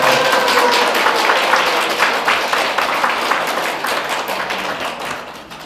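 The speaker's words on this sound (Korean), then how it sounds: "박수로 환영하십니다." A church gathering's audience applauds to welcome a pastor's wife, with loud, dense clapping that continues steadily and slowly fades over several seconds.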